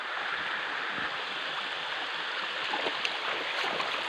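Steady rushing water of a flowing stream fills the scene, a continuous broadband babble close by with no voices.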